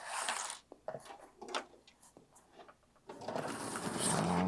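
A sewing machine stitching piping onto a tote runs in short bursts separated by pauses and small clicks, then settles into a longer steady whirring stretch near the end.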